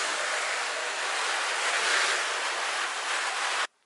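Water spray rinsing a Corvette engine bay after soap washing: a steady, loud, broadband hiss with no talk that runs for over three seconds and then cuts off abruptly.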